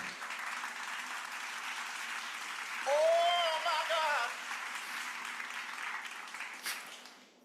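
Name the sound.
audience clapping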